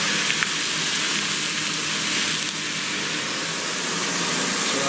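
Diced apple and onions sizzling in a hot pan alongside pork chops, a steady close frying hiss with faint bubbling that carries on evenly throughout.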